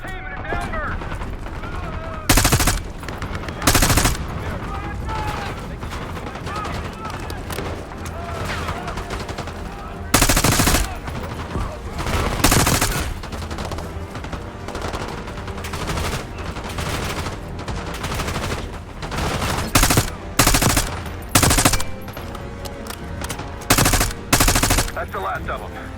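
Loud bursts of automatic gunfire in the Black Ops 6 video game, a helicopter crash rescue firefight, with repeated sharp volleys spaced through a steady rumbling battle bed and occasional talk.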